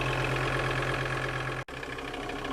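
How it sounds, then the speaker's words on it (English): Steady diesel drone from a VW TDI 100-5 inboard engine on an Arvor 215as boat, near and loud, with a hard tonal hum; a brief cut interrupts it before the running resumes. "then we give her a little bit of revs."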